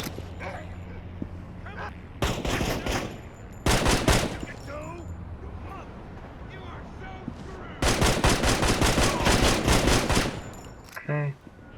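Gunfire in the mobile game Gangstar Vegas: dense bursts of rapid automatic shots in several long volleys separated by quieter gaps, loud and close, with brief game sounds between.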